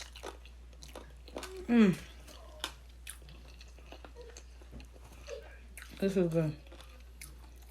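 Someone bites into tender cooked chicken and chews it up close, with two short bursts of crunchy, wet mastication among quiet pauses, and a person murmuring approval in between.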